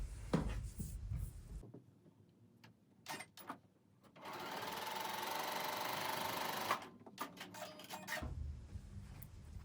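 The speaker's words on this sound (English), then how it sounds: "now we're going to sew directly on this diagonal." A sewing machine stitches quilt fabric squares along a diagonal for a patriotic table runner, with handling clicks and rustles, then a steady, whirring run of a few seconds before it stops and the handling sounds resume.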